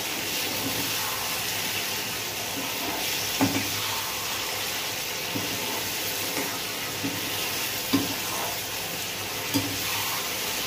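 Pork frying in a pan for an Assamese-style dish with lai saag greens, stirred at intervals, giving a steady close sizzle broken by occasional soft scrapes and clinks from the utensil.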